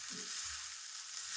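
Green lilva kachori filling cooking in a pan on a medium gas flame, giving a soft, steady sizzle and hiss that holds evenly throughout with no voices.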